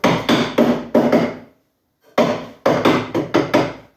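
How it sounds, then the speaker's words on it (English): Sharp hammer blows strike wood trim in quick bursts of two or three, pausing briefly between groups, loud and close with no talking. "And then you're going to pound it in with a hammer."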